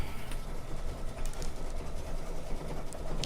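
An embroidery machine stitching out a block-fill design, giving a steady, dense mechanical whir and rapid needle chatter that runs unbroken and fairly close throughout.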